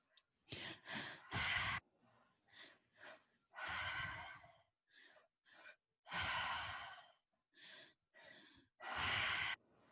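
Deep breaths during guided breathwork, a close series of forceful inhales and exhales in an uneven rhythm, some long and sighing, others short and sharp, separated by brief silences, with no talking.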